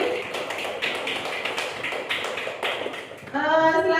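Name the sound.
applause for a student named Dwi in a classroom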